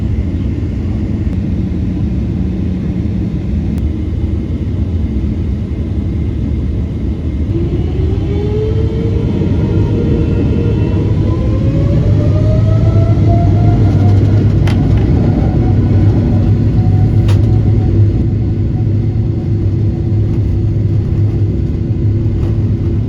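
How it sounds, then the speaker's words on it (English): A THAI airliner taking off from Narita airport in Tokyo, heard from inside the cabin as a loud, heavy engine roar and rumble, with a rising whine climbing in pitch as the plane accelerates and lifts off. "airborne from Narita airport in Tokyo"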